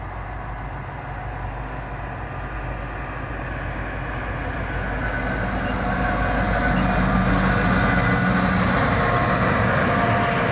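A geometry train hauled by a GP40WH-2, F40PH and YN2 Dash 9 locomotives rolls past with a continuous low rumble and rattling wheels, growing steadily louder and closer, with faint high squeals and clicks from the rails.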